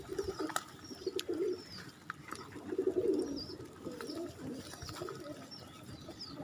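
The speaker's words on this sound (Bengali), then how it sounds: "এখানে অনেক প্রকারের কবুতর আছে" Several pigeons of mixed breeds coo in soft, repeated bursts at close range, joined by faint chirps and twitters from other birds across the background.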